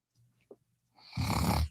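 Puppet character snoring, a faint breath then a loud rumbling snore that swells near the end, close and alone without speech; a human voice imitates the snore.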